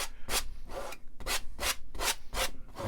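Black paint rubbed and smeared onto a canvas with a brush or palette knife, rhythmic back-and-forth scraping strokes, about eight close, loud passes with no talk.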